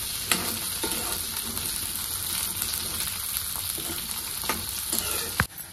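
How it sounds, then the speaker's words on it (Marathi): Green peas fry in hot oil with a steady close sizzle, broken by a few scraping stirs and clinks, ending with a sharper knock. "2 मिनिटं वाटाणा भाजून घेते अगोदर।"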